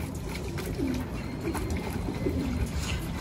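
Soft, low pigeon coos repeat a few times over a steady background hum, fairly faint and unhurried.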